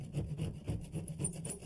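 A hand saw cutting through plaster-wall lath for a bathroom fan box, braced with a screwdriver: quick, steady back-and-forth rasping strokes, close and fairly quiet.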